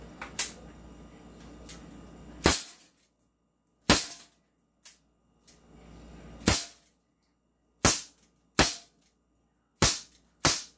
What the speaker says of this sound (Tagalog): Firing! Yan barilin mo yung target sa taas.